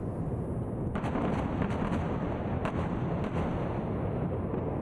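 Rocket and artillery fire in a conflict zone booms continuously under a rumbling wash, with several distinct thuds and cracks spaced across the stretch, fairly distant.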